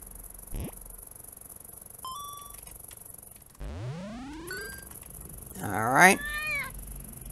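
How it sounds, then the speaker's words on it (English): A cat from the Grass Cutter video game lets out a series of odd, synthetic meows and yowls, some sweeping upward in pitch, alongside brief electronic ding tones in the game's soundtrack. "That's definitely a weird cat sound, though"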